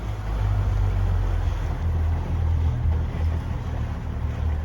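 A Mercury 150 horsepower outboard motor runs steadily at a cruising speed on a boat, giving a constant low drone with water and wind noise and no pauses.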